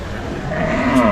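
A cow mooing at a large Eid cattle market in Khulna, one drawn-out moo swelling near the end of the clip amid crowd noise.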